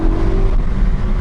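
Ford Focus ST engine pulling at around 4,000 rpm in second gear, a loud, steady low drone heard from inside the car.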